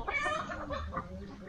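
Hens at a sheepfold clucking in a short burst of close, busy calls, with faint human voices in the background.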